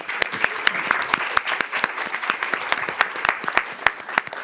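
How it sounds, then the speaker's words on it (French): An audience applauds, with many sharp individual claps standing out close and loud over a continuous bed of clapping for the full stretch. "On les applaudit aussi."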